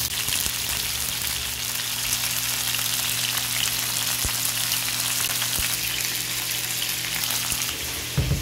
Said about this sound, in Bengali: মুরগি ভেজে নিচ্ছি, শুধু লবণ আর একটু হলুদ দিয়ে মাখিয়েছি